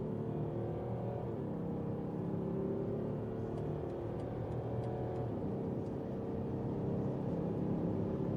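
A BMW X5 with a 3-litre six-cylinder engine accelerates in sport mode, a faint, steady engine whir and road rumble heard from inside the cabin for several seconds, with no voices.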